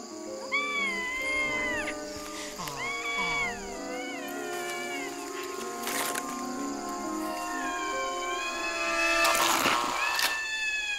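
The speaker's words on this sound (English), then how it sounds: "Then Mia hears a distant call" A fossa calling at night in the forest, a series of rising and falling wavering cries repeated over several seconds amid background noise and occasional sharp bursts.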